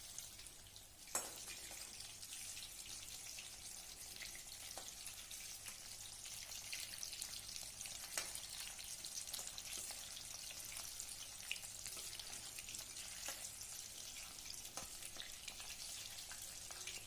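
Chicken pieces deep frying in oil in a wok for chili chicken, a dense, steady crackling sizzle that runs unbroken throughout with occasional louder pops, fairly quiet and without talk.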